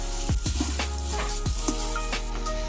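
Turmeric powder, mustard and pepper being stirred in a hot pan for a traditional Kachin chicken dish, with loud steady sizzling and a few sharp spoon scrapes against the metal, close up.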